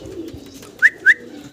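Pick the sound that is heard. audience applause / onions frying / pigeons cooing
pigeons cooing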